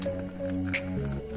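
Water being poured into a plastic water bottle makes a short, close gurgling and sloshing, with tonal glugs that shift in pitch as the bottle fills.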